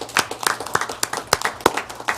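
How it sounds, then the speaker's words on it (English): Sparse applause from a small audience at a town council meeting, a handful of distinct, uneven claps over about two seconds, fairly close and modest in volume. "Give him a round of applause."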